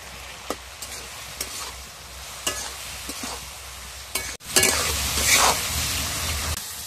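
Ridge gourd fries with turmeric and Kashmiri chilli powder, a soft sizzle with a few spatula scrapes, then a sudden louder, brighter burst of sizzling partway through.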